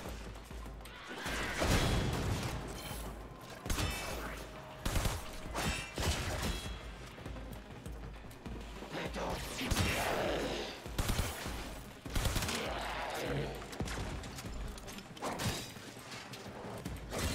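Video game automatic weapon fire rattling in rapid, repeated bursts with sharp cracks and mechanical clatter, loud and close, continuing steadily throughout.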